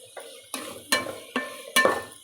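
Spoon stirring garam masala powder through bagara rice in a pan, four distinct scraping strokes in a steady rhythm, close and clear with no talking.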